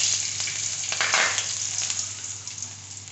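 Five-spice seeds and chilies sizzling in hot oil as tempering for coriander tilapia, a steady close crackling sizzle with a brief swell of spattering, alone over a low electrical hum.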